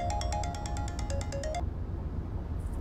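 A mobile phone ringtone chimes in quick repeated notes for about a second and a half, then cuts off, leaving a low steady background rumble.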